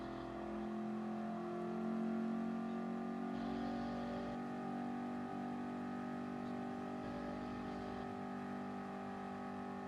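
A 351 V8 race car engine in a racing game drones steadily at sustained revs, a rich continuous tone that swells slightly near two seconds and holds without speech.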